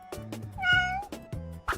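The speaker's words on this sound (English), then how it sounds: "I think there's one silhouette left." A cat gives a single clear, drawn-out meow, close and distinct, while a person talks around it.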